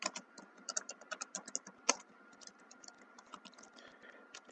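Rapid, uneven clatter of keys on a computer keyboard, close and fairly quiet, with bursts of typing separated by brief pauses and no voices.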